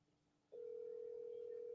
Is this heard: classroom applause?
no